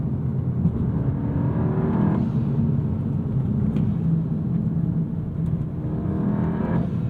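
A 2024 Volkswagen GTI 380 S engine pulls hard under turbo boost from high revs, a steady loud drone with road and wind rumble filling the cabin throughout, no voices.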